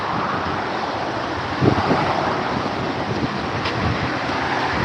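Steady gusting wind roars across an open Malibu beach at Sunset Point, with a faint wash of surf beneath it and no voices.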